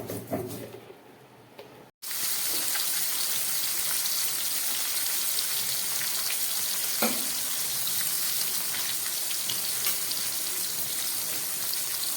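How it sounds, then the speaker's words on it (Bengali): Katla fish fries in hot mustard oil in a wok, a dense, even sizzle that starts abruptly after a short quieter moment and continues steadily, close and alone. "সর্ষের তেল কড়ায় গরম করে কাতলা মাছটা আমি ভাজা বসিয়ে দিয়েছি।"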